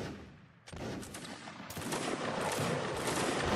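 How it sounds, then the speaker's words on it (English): Musket volley from a firing line in a Napoleonic Wars battle game: a dense, crackling burst of overlapping shots that erupts and rolls on continuously, with a second surge partway through, loud and close with no talk. "Good line and a good volley."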